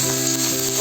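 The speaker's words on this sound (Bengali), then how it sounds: "এবং সব মশলা ভালো করে কষিয়ে নিচ্ছি" Ginger, garlic and green chilli paste sizzles steadily in a pan with fried onions while a ghugni is cooked, a close, continuous frying hiss.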